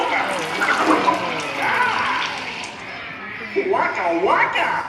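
Water sprays onto the audience during the Muppet*Vision 3D show at Hollywood Studios, a loud hissing splash running under character voices talking over it throughout.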